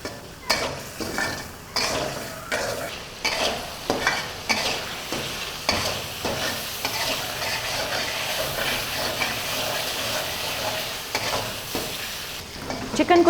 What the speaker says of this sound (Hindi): लहसुन को चिकन के साथ अच्छे तरीके से भून लें।